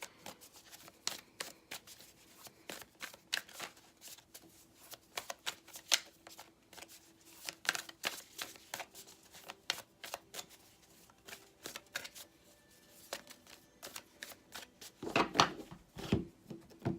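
A tarot card deck shuffled close up, quick papery riffles and slides in irregular bursts with short pauses between, growing busier near the end, with no talk.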